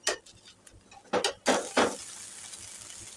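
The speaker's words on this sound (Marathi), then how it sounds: "सर्वात अगोदर याच्या साईडच्या कडा अशा पद्धतीने सोडून घ्यायच्या आहे. नंतर हा डोसा हळू असा परतवून घ्यायचा आहे." A rice flour dosa is loosened and flipped on a hot pan, with several scraping spatula strokes and taps followed by a soft steady sizzle.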